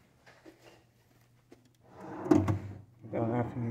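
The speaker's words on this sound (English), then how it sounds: "And this drawer." A hotel room drawer in San Francisco slides open and shut, two close wooden scrapes and knocks following brief soft speech.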